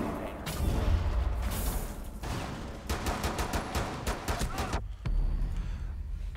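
Gunfire in the video game Rainbow Six Siege: scattered shots and booms, then a rapid automatic burst of sharp, evenly spaced cracks, followed by a short lull and more distant firing.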